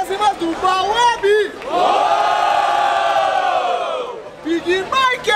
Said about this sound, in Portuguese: Barulho para as rimas do Baueri